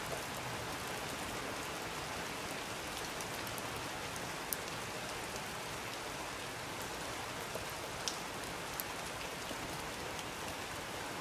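Steady rain on a surface, heard muffled from indoors among shelves, as in an old academy library at night; a soft continuous hiss with occasional faint drop ticks, no voices.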